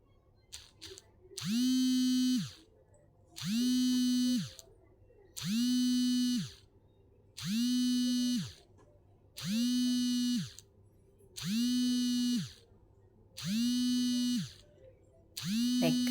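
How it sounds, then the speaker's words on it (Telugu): Sewing machine stitching the neckline of a crop top, running in eight evenly spaced bursts of about a second each with brief pauses between them, loud and close, with no talk. "ఇలా నెక్ అయితే తిప్పిచ్చేసుకొని కుట్టు పోసేసుకోవాలి"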